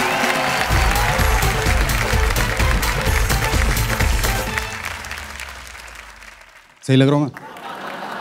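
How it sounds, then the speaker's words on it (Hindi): Audience applause and cheering at a Haryanvi stand-up comedy show, loud and sustained with music underneath, fading out before a single voice speaks briefly near the end. "जोरदार तालियां विजय यादव के लिए"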